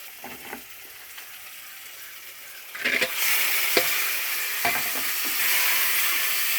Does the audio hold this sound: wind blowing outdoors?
no